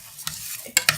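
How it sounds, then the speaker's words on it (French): Rice is stirred in olive oil in a frying pan, giving soft scraping strokes over a faint sizzle, then sharper, louder spoon scrapes near the end. "vous n'oubliez pas durant ces 3 minutes de bien tourner le riz"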